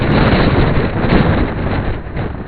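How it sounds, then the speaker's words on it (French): Strong gusting wind buffets an outdoor microphone during a summer thunderstorm in Vougy, a loud continuous roar with swelling gusts and no voices. "c'est pas moi qui rajoute du vent, hein."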